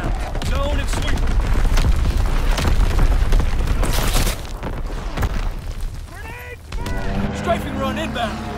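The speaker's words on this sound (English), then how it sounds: "Firing battery one. Target position confirmed. Sending mortar round." Heavy rumbling mortar round explosions in the Call of Duty: WWII video game, set in the Ardennes Forest, roll on continuously and loudly, overlapping with in-game radio voices and game sounds.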